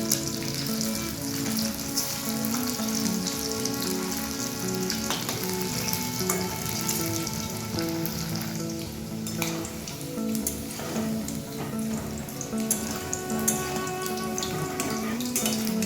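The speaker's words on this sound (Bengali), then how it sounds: "ম্যারিনেট করা মাছটার একটা পিঠ খুব ভালোভাবে ভাজা হয়ে গেছে। এবার অপর পিঠটাকে এইভাবে উল্টে দিচ্ছি।" Marinated catla fish pieces fry in hot oil with a steady, dense sizzle and crackle throughout, with a few brief spatters as a piece is turned over; no voices.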